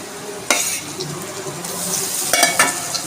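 Onion fries with cumin, ginger and chilli pastes in a pan for a rohu fish curry, loud sizzling broken by sharp utensil scrapes and clinks as the mixture is stirred, with no talking.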